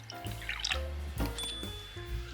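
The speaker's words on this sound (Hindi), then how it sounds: "पानी में 1 गिलास में पानी डालूंगी," Water left over from boiling raw mango is poured into a glass to make a sweet-sour sharbat, with a gurgling, rising trickle and a few drips and clinks close by.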